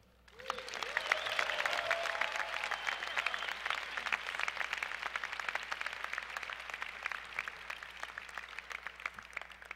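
Commencement audience applause at a 2014 Smith MBA ceremony, a dense, sustained wash of many hands clapping that swells quickly and holds at moderate loudness, heard from a distance in a large hall.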